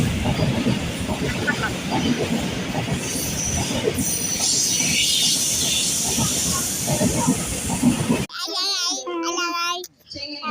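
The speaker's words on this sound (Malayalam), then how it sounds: "ഇത് വേറൊരു ട്രെയിനാണ് അവർക്ക് പോകേണ്ട ട്രെയിനല്ല" A passing train, not the one being waited for, rumbles past close by with a rushing hiss and steady clatter, then cuts off abruptly as voices begin talking.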